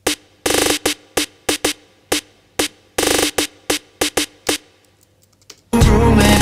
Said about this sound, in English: single drum snares, electronic snares